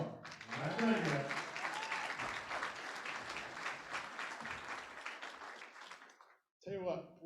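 An audience at a wine pull charity auction breaks into sustained applause, a dense wash of clapping lasting about six seconds after brief talk, then stopping as speech resumes.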